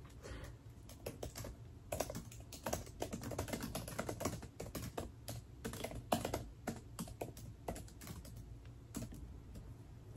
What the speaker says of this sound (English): I'm not going to read, I'm going to type